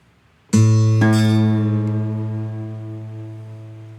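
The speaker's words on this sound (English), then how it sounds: "When it's not matched, you'll hear what's called beats. It kind of warbles." A plucked low guitar note rings against a steady electronic reference tone, the two slightly mismatched so the sustained sound warbles as it slowly fades.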